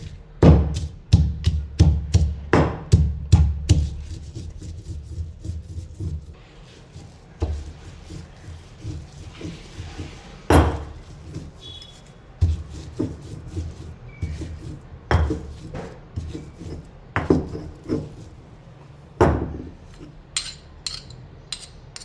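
Peanuts and green chillies pounded for potato thecha in a stone mortar and pestle, giving loud, rhythmic thuds in quick bursts that slow into spaced, heavier strikes.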